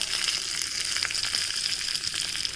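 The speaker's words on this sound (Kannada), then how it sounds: "ಈಗ ನಾನು ಮೆಣಸು ಹಾಕ್ತಾ ಇದ್ದೇನೆ" Byadgi chillies with urad dal and a little cumin frying in hot oil, giving a steady, close crackling sizzle with fine popping throughout, no voices.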